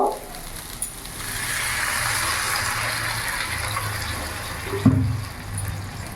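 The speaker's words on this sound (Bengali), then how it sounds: "এরই মধ্যে এখন আমি জল অ্যাড করব।" Water poured into a pan of fried, cooked-down spices for a fish curry with potato and eggplant, a steady gushing pour lasting several seconds with a brief clatter near the end, close and moderately loud.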